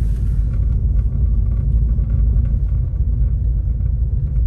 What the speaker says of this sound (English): There's so much traffic though